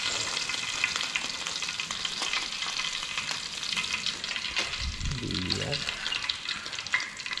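Tilapia with ginger fries in a pan, a steady dense crackling sizzle heard up close with stirring, and a brief low rumble midway, no talking over it.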